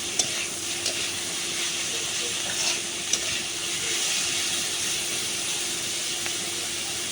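A vegetable stir-fry cooks over high heat, giving a steady, loud sizzle throughout, with a few light scrapes and clicks of the stirring utensil against the pan.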